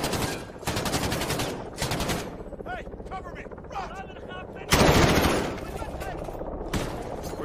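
Gunfire in the Call of Duty: Modern Warfare campaign, with loud repeated bursts of shots and heavy blasts that come and go over several seconds amid game sounds.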